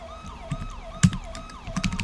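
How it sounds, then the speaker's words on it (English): A wailing electronic California Highway Patrol siren in GTA 5 sweeps up and down repeatedly, with scattered thumps and clicks over it, fairly close and steady. "Turn my siren off. I'm tired of hearing that thing."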